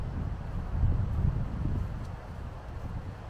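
Wind buffets the microphone beside a lake at an RV campsite, a steady low rumble with gusts swelling in the middle and easing toward the end, with no other distinct sounds.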